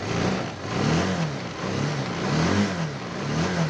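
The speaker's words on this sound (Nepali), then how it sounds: "बजाज पल्सर 220 बाइकको चाहिँ जस्तो भाइजरको साउन्ड आउँछ भन्नुहुन्छ नि" Engine of a Bajaj Pulsar 220 motorcycle revving up and down in several pulses, with a loose visor rattling along, heard close and steady with no talking.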